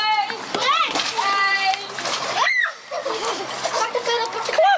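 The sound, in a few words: splash of someone jumping into canal water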